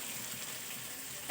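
Fried potatoes sautéed in oily spice paste for a brinjal and pangas fish curry give a steady, soft sizzle throughout, ending in one brief louder clink or scrape.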